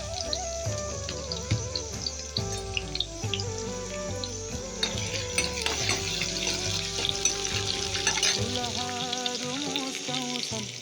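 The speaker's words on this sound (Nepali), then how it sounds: "मैले चाहिँ प्याजहरू फ्राई गर्दैछु।" Onions fry in a pan with a soft, continuous sizzle and occasional stirring, under music playing throughout.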